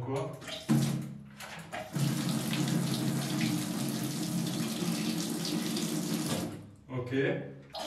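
Water gushing from a Grohe Essence concealed shower mixer with Smart Control during installation, a loud steady rushing stream for several seconds, with a voice speaking briefly before and after.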